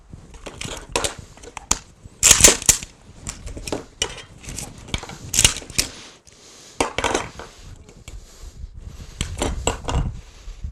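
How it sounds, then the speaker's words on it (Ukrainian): An AK-74M assault rifle field-stripped at speed, a rapid series of close metallic clacks, clicks and sliding scrapes in irregular bursts, the parts knocking against each other and onto a hard surface. "Десь до 7 секунд автомат розібраний."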